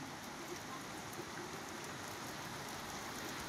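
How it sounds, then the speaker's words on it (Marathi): Steady rain falls outside a home, a continuous even hiss of drops with no breaks, moderately loud and close, with nothing else standing out. "घरी आलो आणि पाऊस सुरू झालाय."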